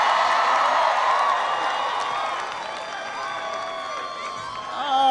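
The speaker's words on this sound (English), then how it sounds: "Can everybody please give Patrick a big round of applause for that great introduction?" A large rally crowd in Philadelphia cheers and applauds for Patrick at a 2016 presidential campaign event, a dense, sustained roar of whoops and clapping that dips slightly and swells again.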